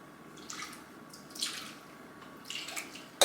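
Whole milk and pudding mix are whisked in a bowl, giving faint, wet swishing strokes in a few short bursts with quiet pauses between.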